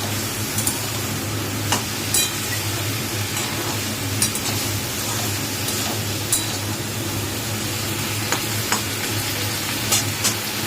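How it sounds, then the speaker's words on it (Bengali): Ridge gourd with a pinch of turmeric sizzles in a pan for Bengali jhinge shukto, under a steady frying hiss with intermittent clinks and scrapes of stirring, close and without talk. "ভালো করে নেড়ে"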